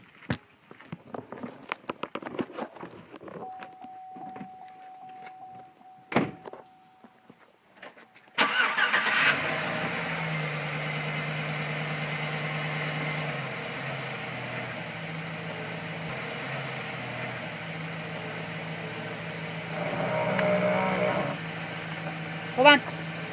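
A car engine turns over and catches partway through, then idles and rumbles steadily as the vehicle creeps slowly forward in drive in a backyard, with faint footsteps and brief voices earlier.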